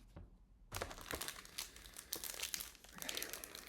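Foil wrappers of Lorcana trading card packs crinkle and tear close up, a steady stream of crisp rustling and crumpling after a brief quiet start.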